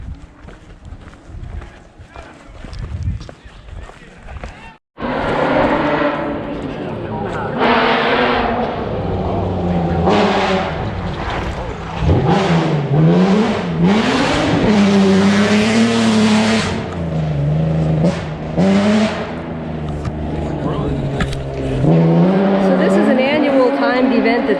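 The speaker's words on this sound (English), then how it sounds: "We have to wait till the rest of the cars come through. There's 23 cars in the rally" Rally race cars roaring past one after another during a 23-car rally event, engines rising and falling loudly with revving and tire noise, close to the road, with people talking underneath.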